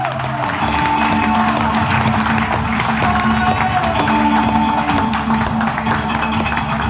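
Audience applause and some cheering for a comedian at Sharkey's comedy club, dense clapping over a low background hum and tone throughout.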